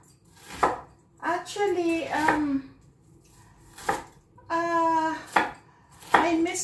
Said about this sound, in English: We're gonna slice the onion.